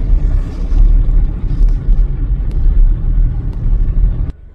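Road traffic rolls down a flyover near Santacruz station in Mumbai, a loud, continuous low rumble of vehicles close by with no talking, dropping off abruptly at the very end.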